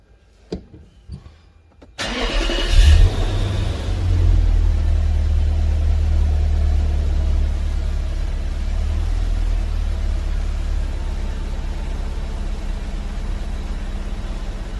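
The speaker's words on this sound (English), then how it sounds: "Let me go ahead and turn the car on." Infiniti M45 engine cranking and catching after a short quiet stretch, then settling into a steady, close, continuous idle rumble with a brief rev as it starts.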